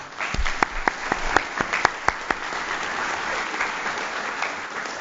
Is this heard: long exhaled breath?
no